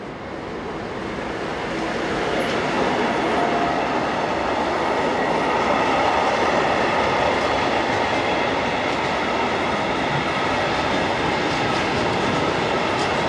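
A Belgian Class 28 locomotive hauls a freight train bound for Germany near the Gremberg marshalling yard outside Köln, its steady rumble and wheel clatter rising over the first seconds and then holding loud and close throughout.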